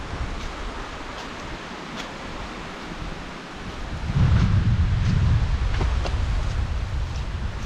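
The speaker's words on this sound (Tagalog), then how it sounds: "Ang lakas na naman ang ulan." A dense, broadband wash of noise that swells louder midway through, like heavy rain pouring steadily close by with gusts.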